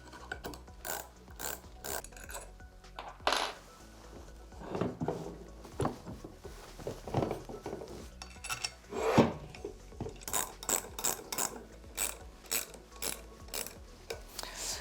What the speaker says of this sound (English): So first I will disconnect the pipe. I will remove the 2 screws.